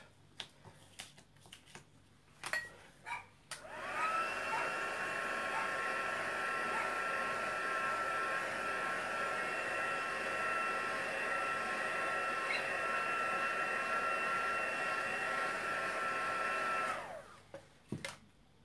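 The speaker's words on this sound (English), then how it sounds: "use your heat tool to remove that tape" A handheld heat tool blows hot air to lift painter's tape in a craft project, starting with a click and running as a steady, loud whirring roar for about thirteen seconds before shutting off, with brief handling taps before and after.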